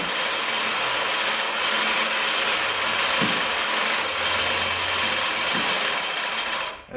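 A winch grinds steadily as it lowers the radiator of a Minneapolis Moline A4T tractor, a close continuous whir with a few ratcheting clicks, ending in a brief thump.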